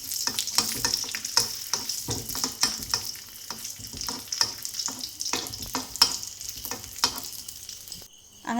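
Nuts frying in ghee in a pan sizzle softly and steadily, with repeated scraping and clinking of a spoon as they are stirred, close and fairly quiet with no talk.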